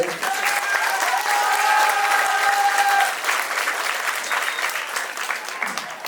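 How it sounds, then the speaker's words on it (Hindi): Students and staff at a NEET 2023 result celebration in Jodhpur clap loudly together, a thick burst of applause with a few voices mixed in that eases off toward the end. "तो एक बार फिर से एक बार ताली बजाए।"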